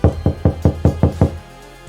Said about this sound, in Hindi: उनके घर के सामने 2 एम्बेसी ऑफिसर दरवाज़ा खटखटाते हैं।